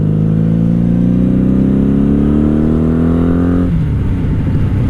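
A 1997 Honda Magna VF750C motorcycle engine revs up loud and close, pitch climbing steadily for several seconds before dropping abruptly back toward idle.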